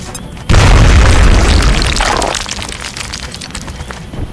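A frag grenade detonates in the video game XCOM Enemy Within, a sudden loud boom with a heavy low rumble that decays over about two seconds, followed by quieter game ambience.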